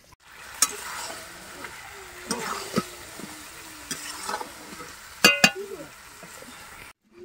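Spice masala for a meat curry is sautéed and stirred in a pan, with a soft, low sizzle under scraping stirs and a sharp metallic clink near the end in an otherwise quiet home kitchen.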